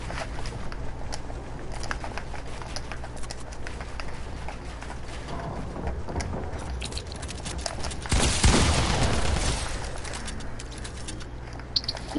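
A cannon fires in a video game, one booming blast about two-thirds of the way through, standing out over a low, steady game background.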